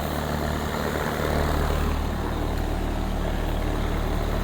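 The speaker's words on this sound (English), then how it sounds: "Compressor's on now, and it's cooling off in my house" A home air conditioner compressor, just fitted with a new capacitor, runs with a steady low hum and drone that holds even and continuous throughout, with no speech.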